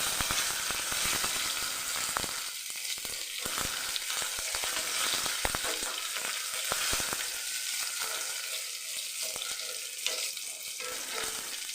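Cashews and raisins frying in hot ghee give a continuous close sizzle with scattered crackles and occasional stirring scrapes, steady throughout with no voices.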